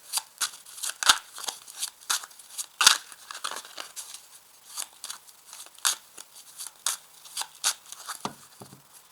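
Tarot cards being cut in two by hand, giving a string of light, crisp card snaps and shuffling riffles at a steady, close pace with no talk.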